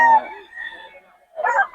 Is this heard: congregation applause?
no